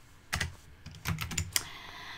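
Quick bursts of keystrokes on a computer keyboard while writing code, close and crisp, in short irregular runs with brief pauses between.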